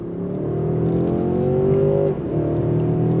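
A 2022 Mercedes-Benz S580 accelerating hard, its engine note rising steadily loud and close before a quick dip as the 9-speed automatic upshifts, then pulling again with a lower drone.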